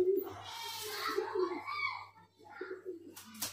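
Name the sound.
male pigeon cooing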